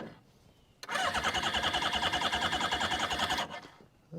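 A 1980s-era Suzuki GS650GL motorcycle engine cranks on starting fluid steadily for about three seconds in a rapid, pulsing churn without catching, then stops.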